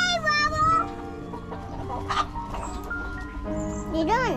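Chickens cluck and squawk in bursts, fairly close, mixed with other background noise and a brief voice-like sound.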